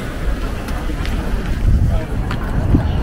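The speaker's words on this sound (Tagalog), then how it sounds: "sobrang lakas ng hangin" Strong wind buffets the microphone with a constant low roar and gusty rumble in Kyoto or Nara, Japan, while faint voices are partly buried underneath.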